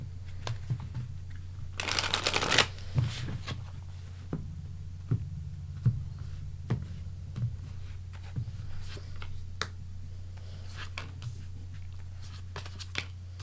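Playing cards riffle and snap in a soft burst near the start, followed by scattered light clicks and taps over a steady low hum.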